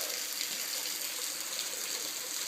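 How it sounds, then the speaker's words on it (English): Steady water rushes and spatters inside a cave behind a waterfall, a continuous broadband wash with no clear separate drips, even and moderately loud. "So this is behind the waterfall, where the water drips."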